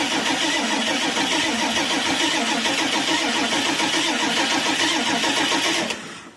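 An old motorcycle engine cranks and stutters after a shot of ether, giving a loud rapid rhythmic chugging close by that runs for several seconds before cutting off abruptly near the end.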